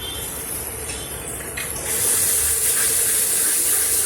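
Mutton masala seasoned with coriander powder fries in hot oil, giving a steady close sizzling hiss that turns louder and brighter partway through, with no talking.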